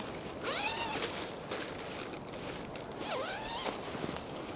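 Zippers on the door of an MC TOMOUNT 4 person cabin tent are drawn open in two quick rasping pulls, close and crisp against a faint background rustle.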